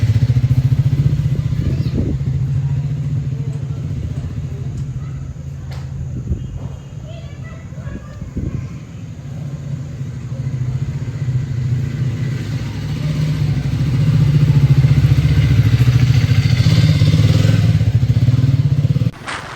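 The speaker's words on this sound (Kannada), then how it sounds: "ಈಗ ಪೂಜಾರಿನ ಬೈಕ್ ಮುಂದ್ಬಿಡ ಅಂತಾರೆ." A priest's motorcycle rides ahead during a Diwali puja procession, its mid-pitched engine droning steadily and rising toward the end, with occasional thumps and clatter and voices talking over it.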